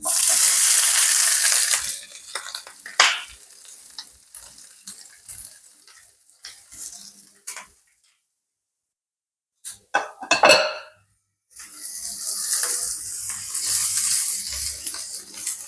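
Cabbage stirred into hot oil with popped mustard seeds and two chillies; a loud sizzle opens, gives way to pan and utensil clatter and a brief silence, then the hissing sizzle returns strongly.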